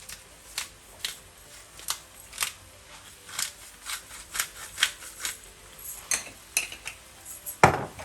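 Sharp metal clinks of a utensil against a pot while mixing cumin, salt and black pepper for a one-pot breakfast, a steady scraping tap roughly twice a second, close and fairly quiet.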